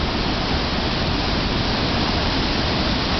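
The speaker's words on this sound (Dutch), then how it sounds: "We zijn hier in Co, een waterval." The waterfall at Coo in the Ardennes makes a dense, steady rush of falling water, loud and unbroken throughout, with no voices.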